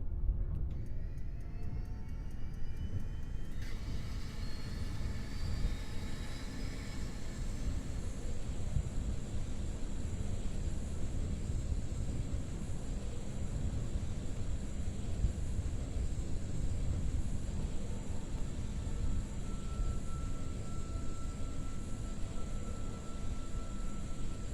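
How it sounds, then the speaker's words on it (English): Airplane engine drone in Kerbal Space Program, a steady broadband roar that holds constant and loud throughout, with a brief higher whine near the start and a faint tone later. "airplanes are really noisy"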